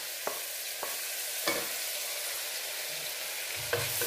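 Green chillies, ginger-garlic paste and curry leaves fry in oil, giving a steady soft sizzle with a few sharp spoon-scrape or stirring knocks scattered through.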